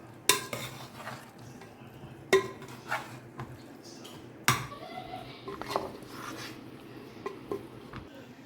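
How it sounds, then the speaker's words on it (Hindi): Cooked rice being mixed into green chicken pulao in a pot, with sharp metallic spoon knocks against the rim, scraping stirs and a faint sizzle underneath, fairly quiet overall. "तो अब इसे अच्छे से मिक्स करते हैं।"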